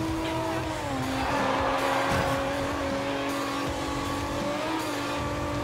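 Racing car engine roaring steadily in Forza Horizon 2, holding a high sustained note with slight pitch shifts as the car drifts through a corner, tires hissing underneath, loud and continuous throughout.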